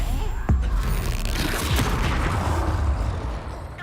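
A Bombarda explosion spell cast in Hogwarts Legacy gives a sharp booming blast near the start, followed by a rumbling, crackling tail and lighter impact thuds over a dense game soundscape.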